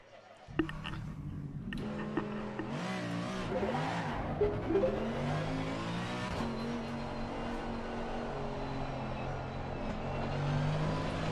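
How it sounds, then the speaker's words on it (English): The big V8 engine of a race car in Assetto Corsa Competizione drones and revs steadily and loudly throughout, with rising and falling pitch under faint background noise. "The big engine. V8. Listen to that."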